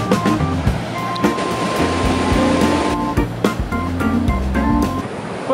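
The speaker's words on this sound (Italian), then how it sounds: "Questo è un mulino d'acqua." Water rushing hard and continuously at a water mill in the English countryside near Romsey, a loud, steady roar with scattered splashes and knocks.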